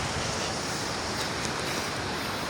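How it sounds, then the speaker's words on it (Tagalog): Water waves lapping along a quiet village shore on a fresh morning, a steady broadband wash with a soft wind-like rush and no clear breaks, moderately loud and alone with no voices. "Ay imong madungog kanarang mga tingog sa tubig."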